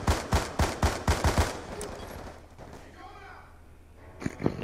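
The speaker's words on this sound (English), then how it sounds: "this entire time, I've been shooting this guy" Rapid bursts of automatic gunfire from the Black Ops 2 video game, about eight sharp shots in quick succession, loud and close, then fading into quieter game ambience with a single late shot while someone talks over it.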